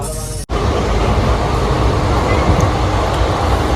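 A loud, steady rumble fills the inside of a moving Indian Railways train on the way to Kolkata. It starts with a brief cut and then holds a continuous close roar of wheels and carriage noise.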